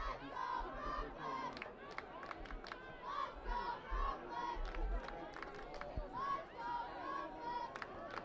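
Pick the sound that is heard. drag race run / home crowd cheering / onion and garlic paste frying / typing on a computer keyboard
home crowd cheering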